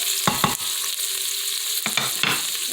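Food sautéing in an Instant Pot, stirred with a new Pioneer Woman spoon: a steady sizzle runs throughout, broken by two clusters of scraping spoon strokes near the start and two more near the end.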